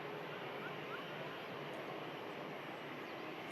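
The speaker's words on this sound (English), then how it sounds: "we have the newest operator out of Manchester, the Norse 787" A Norse Atlantic Boeing 787 at Manchester Airport, bound for Bridgetown, produces a steady broadband engine roar at a moderate distance that holds constant throughout.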